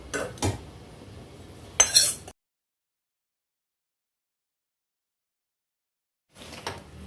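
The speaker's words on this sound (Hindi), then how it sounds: "तो सारी चीज़ों को खूब बढ़िया से मिलाएंगे।" Dry fruits, gond and roasted dry ginger for mewa pak being mixed in a metal pan, heard as a few brief scraping and clinking bursts, then a long silence and a final short stir.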